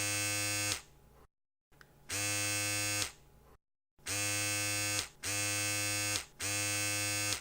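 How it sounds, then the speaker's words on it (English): An electric razor buzzes close by in repeated bursts of about a second each, a steady harmonic drone that switches on and off with short gaps of silence between runs. "this is the sound of an electric razor"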